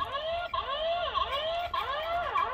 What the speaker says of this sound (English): the camera is giving off a bit of a siren.